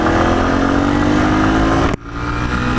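Yamaha TW200 five-speed motorcycle engine droning loud and close under acceleration, pitch climbing steadily before an abrupt drop as the rider shifts, then building again.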